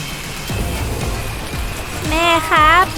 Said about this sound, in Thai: ฝนตกอะ่ะ